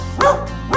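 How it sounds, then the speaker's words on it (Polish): Two short barks from a cartoon dog, a clean, toy-like yip on each beat, loud and close over the backing music of a Polish children's song about a farmer's dog. "Farmer i miał psa, co Bingo miał na imię"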